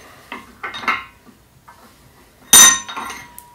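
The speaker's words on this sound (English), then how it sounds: "So now that I've got it tight by hand, we're going to put it back in the vise," Butterfly valve from brewery equipment knocked into a metal vise, giving a few sharp metallic clanks and clinks with quiet gaps, ending in one louder ringing clank.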